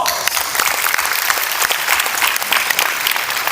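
Dense, continuous applause from a seminar audience at an entrepreneur summit, loud and close, filling the whole stretch with a steady wash of many clapping hands.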